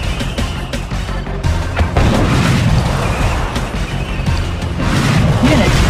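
In the strategy game Yuri's Revenge, a rocket launches and explodes in a string of deep booms and crashes, with game voice lines heard over the blasts.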